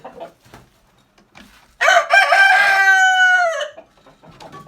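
A village rooster crows once, loud and close, a long strained cock-a-doodle-doo, with soft clucking from other roosters before and after.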